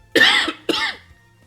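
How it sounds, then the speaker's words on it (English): Two distinct coughs in quick succession, the second slightly shorter, close and fairly loud against a quiet background. "where's that cough coming from?"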